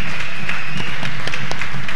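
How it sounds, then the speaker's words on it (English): An audience at a Reggae University panel on Jamaica's artistic renaissance applauds the Uprising Roots members, a dense, loud spread of clapping heard close. "give a big round of applause for Uprising Roots on the panel as well as in the audience"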